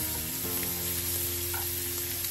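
Salted fish frying in a pan until lightly browned, giving a steady, dense sizzle with a low hum running beneath it, close and continuous throughout.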